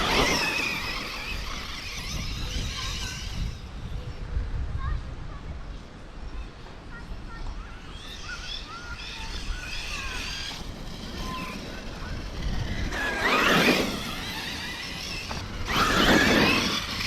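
An Arrma Kraton EXB RC car with a Hobbywing Max 6 1650kv motor driving in two-wheel drive, motor whine rising and falling with squealing bursts, under outdoor noise and people talking.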